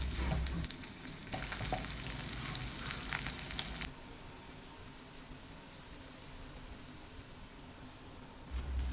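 Shredded chicken adobo flakes fry in a pan with a soft, steady sizzle, heard up close and fairly faint, louder for the first few seconds and then settling to a quieter crackle.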